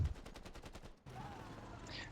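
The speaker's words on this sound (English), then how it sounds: "let's fire with our field cannon" Field cannon fire in the video game Civilization 7 comes as a quiet, rapid series of about eight to ten regular bursts, then a short gap and a fainter sustained rumble.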